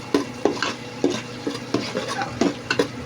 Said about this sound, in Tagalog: At ngayon lalagay po natin ang ating bawang